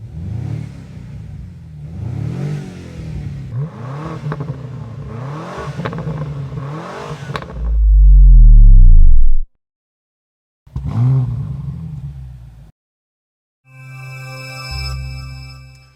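A 2025 BMW M5's V8 with exhaust open revs repeatedly in sharp bursts, rising and falling close by, then holds a deep rumbling roar before cutting out and idling.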